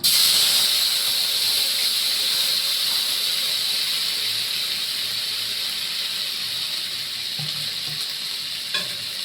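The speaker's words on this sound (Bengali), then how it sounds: "এখানে আমি আদা জিরে আর লঙ্কা বেটে রেখেছি একসঙ্গে করে, এটা আমি ঢেলে দিয়ে দিচ্ছি।" A ground paste of ginger, cumin and chili hits a hot oiled pan with a loud, steady hissing sizzle that continues unbroken and slowly eases, with a small clink near the end.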